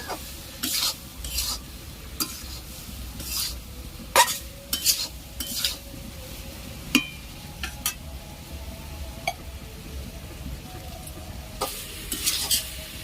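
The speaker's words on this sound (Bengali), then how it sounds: "ওপর থেকে দিয়ে দিচ্ছি এঁচোড় আর আলু, যেগুলো আমি কষিয়ে রেখেছিলাম। ভালো করে মশলার মধ্যে মিক্সড করে নেব।" Jackfruit and potatoes being stirred into masala in a pan, with repeated scraping and clinking strokes of a spoon over a steady low sizzle, close and fairly quiet.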